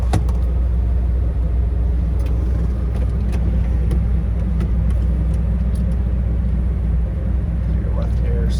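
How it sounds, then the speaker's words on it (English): A restored 1957 Ford Thunderbird with a rebuilt 312 Y-Block V8 idles with the air conditioning running, a loud, steady low rumble throughout with someone talking over it. "So I'm going to leave the AC on so you can see the AC compressor under the hood."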